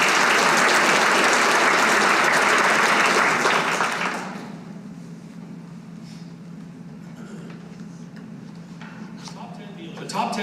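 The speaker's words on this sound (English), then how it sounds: "Let's give them all a round of applause." Audience at a live dealer awards event bursts into loud, dense applause that fades out after about four seconds, leaving quiet room sound and a few scattered claps.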